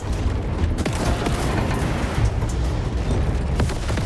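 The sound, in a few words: missile explosions in video game War Robots Frontiers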